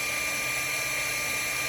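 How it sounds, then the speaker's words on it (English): A hair dryer blows steadily while inflating a pool, a constant loud whooshing whine with no breaks. "A hair dryer to blow it up."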